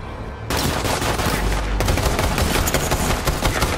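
Gunfire in the shooter game Borderlands 3, a loud continuous stream of rapid shots and impacts that starts abruptly and keeps going without a break.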